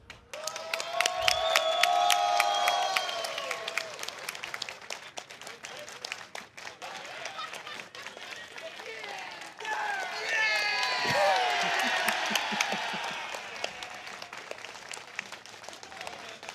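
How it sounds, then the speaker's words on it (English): Crowd applause and cheering at a Virtua Fighter tournament for the top 8 players, with sustained clapping swelling twice, voices calling out over it and an announcer speaking in between. "Let's give one more round of applause for your top 8 here."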